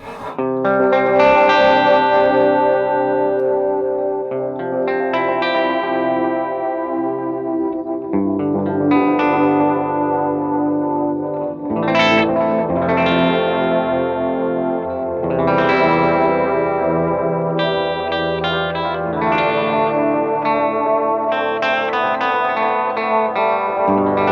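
An electric guitar plays through a delay pedal in a 2019 analog rig, with chords and notes trailing into glitchy, wavering repeats that blur together in a loud, continuous wash without talk.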